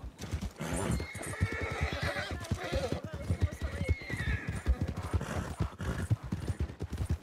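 Horse neighing and rapid clip-clopping hooves in the western video game RedM, a loud whinny over steady galloping hoof beats, with voices talking over it.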